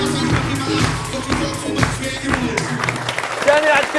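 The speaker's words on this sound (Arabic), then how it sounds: "عطونا تصفيق على عزو" Studio audience applauding on a 2015 Algerian TV entertainment show, a dense, steady clatter of many hands that runs the whole few seconds, loud and close, mixed with stage voices and music.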